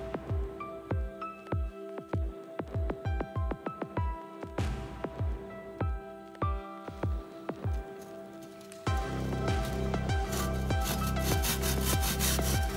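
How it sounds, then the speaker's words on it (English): A standard woodworking hand saw cuts slowly and carefully along marked lines, giving steady rhythmic rasping strokes up close, first with short pauses between them and then in a denser, louder run toward the end, with no talk. "I took my standard woodworking saw and just carefully and slowly cut down the lines."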